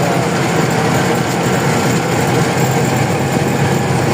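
A tractor engine runs at idle in a continuous, loud, even drone that stays steady throughout without changes in pace.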